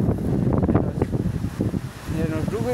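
Strong wind buffets and rumbles close to the microphone while a person keeps talking over it, wind strong enough to threaten tin roofing.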